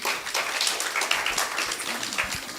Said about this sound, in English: Can you please give that a round of applause?